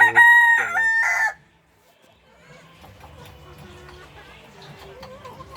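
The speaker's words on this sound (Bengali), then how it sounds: "এখানে মুরগি আছে, তিনটে মুরগি আছে" A rooster crows loudly and close in a coop kept with hens, ducks and pigeons, a single full call followed by quieter scattered clucks and shuffling of the fowl in the background.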